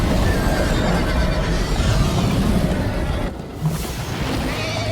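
In Minecraft Story Mode, a faint, wavering horse neigh drifts under continuous game rumble and mid-range noise, with a brief dip in the sound near the end and no voices.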